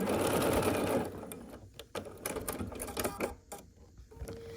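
A sewing machine stitches a quilt block seam in a fast burst, then pauses while fabric is handled with scattered clicks and rustles.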